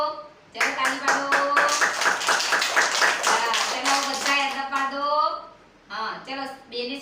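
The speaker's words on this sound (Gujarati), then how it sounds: "ચલો, તાળી પાડો." Children at an anganwadi clap their hands together in a quick burst of rapid, uneven claps lasting several seconds, with a final few claps after a short pause, mixed with children's voices.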